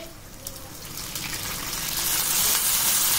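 Dried red chillies and curry leaves dropped into hot oil for a drumstick-leaf tempered rice, a close frying hiss that swells louder and brighter over a few seconds, no voices.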